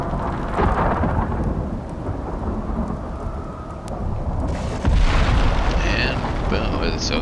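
Thunder from lightning striking close during a storm in a video game: a steady rain wash carries heavy rolling rumbles, with a sharper, louder crack of thunder about two-thirds of the way through.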